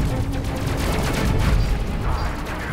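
Dense barrage of spaceship weapon fire in Space Crew, continuous rapid blasts and booms layered together at high volume, with a voice mixed in underneath.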